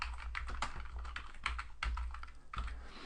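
Steady typing on a computer keyboard while a screenplay location is entered, with quick irregular clusters of key clicks and a few louder strokes, close and clear, no talking.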